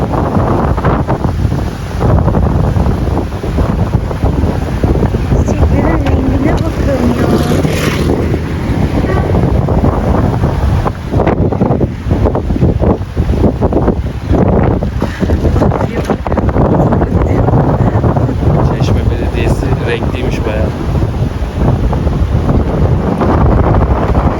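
Strong coastal wind buffets the microphone in a loud, continuous roar with gusting surges, steady throughout with no clear speech.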